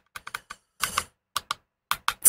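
Close, crisp keystrokes as a search is typed on a computer keyboard, irregular clusters of clicks with short pauses between bursts, ending on a louder key press.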